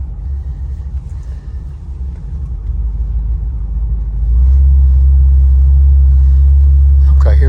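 Car rolling down a road with a low engine rumble building steadily louder and deeper from inside the cabin, with a brief voice near the end.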